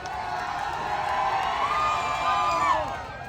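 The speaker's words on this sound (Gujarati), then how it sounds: "તાળીઓથી વધાવી લો પ્લીઝ." A crowd at a fashion show event in Jasdan cheers and applauds, a loud, sustained roar of voices and clapping with shrill whoops rising over it.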